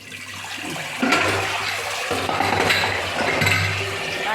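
Water gushes out of a pipe once a blockage is cleared, a loud continuous rushing and splashing flow with some metallic clinks mixed in, surging stronger after the first second.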